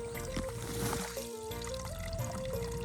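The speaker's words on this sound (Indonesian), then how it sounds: "Ini ada di mana-mana ya aliran airnya tuh." A small stream of water flows across terraced rural land with a steady, continuous trickle, mixed with some background noise and a faint tonal hum.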